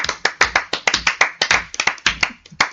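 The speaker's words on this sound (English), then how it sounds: "Special round of applause for our special guest today." A small group clapping for a guest on a podcast set, with close, distinct hand claps in a quick irregular rhythm, about twenty sharp slaps over a few seconds, loud and with no talk over them.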